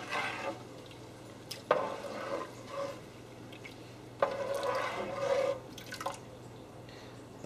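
Spoon stirring a homemade two-part alkalinity solution in water, giving soft swishes and a few small clinks and splashes at an even pace, close by in a quiet room.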